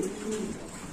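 Lahori and fancy pigeons on a farm coo steadily in a low, continuous murmur, several birds close by with no pause across the short stretch.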